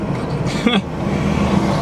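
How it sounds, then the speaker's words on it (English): A train rolls past at a railroad crossing, making a steady low rumble with a brief squealing whine partway through, heard up close. "This train was at the last car before we were able to go, and then it stopped"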